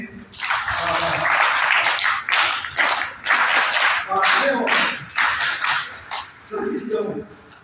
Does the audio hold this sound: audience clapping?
yes